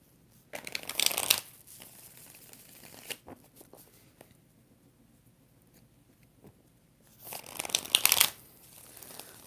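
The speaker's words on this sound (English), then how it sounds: "4 shuffles for Nadia." Tarot cards are shuffled in two quick riffling bursts, one near the start and one near the end, with quiet handling sounds between them.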